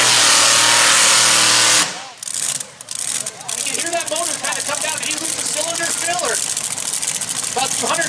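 A Super Stock Diesel pulling tractor at the NTPA Power Pull Nationals roars at full throttle, then abruptly drops off after about two seconds into a lower, uneven engine rumble as RPMs fall, with an announcer talking over it.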